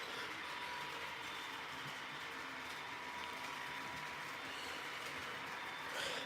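A Kato HO scale BNSF model locomotive with EMD styling runs steadily on track, giving a continuous mechanical whir and light rattling of gears and wheels, close and even throughout.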